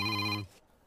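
A telephone rings once, a short steady electronic tone cut off abruptly, followed by near silence with no talk.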